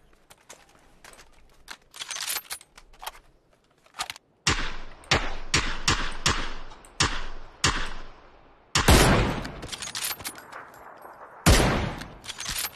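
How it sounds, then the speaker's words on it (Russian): Rapid bursts of video game gunfire crack out in quick volleys, sharp and loud, with heavier sustained firing near the end and short pauses between shots. "У нас еще сзади стреляет оттуда."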